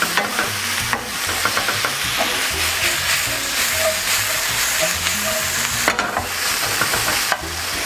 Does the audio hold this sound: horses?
no